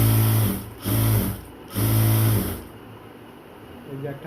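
A sewing machine stitches a sleeve onto a dress in three short, loud runs close by, then goes quiet while someone speaks over faint handling sounds.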